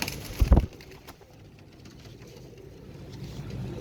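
Royal Teddy pigeons give one short, low, throaty coo up close, then a soft rumbling background carries on with no further calls.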